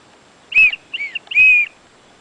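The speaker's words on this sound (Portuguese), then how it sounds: "Ela tem também esse apito, diz ser um apito de sobrevivência" A survival whistle built into a Smith and Wesson SW990TA tactical knife gives three sharp, shrill blasts, the first and last longer with a shorter warbling note between, loud and close with no talk.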